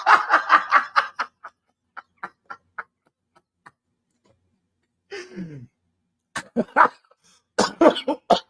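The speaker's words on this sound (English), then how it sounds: "I don't mean to be coughing on the mic" A rapid fit of harsh coughs up close, followed by scattered single coughs, a wheezy strained breath, and more coughing bursts near the end.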